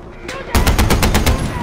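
Rapid automatic gunfire from a new weapon in the Far Cry 4 video game, a loud burst of about seven sharp, evenly spaced shots following a faint lead-in.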